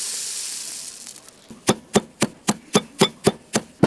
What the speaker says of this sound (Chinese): 把麻子炒熟捣碎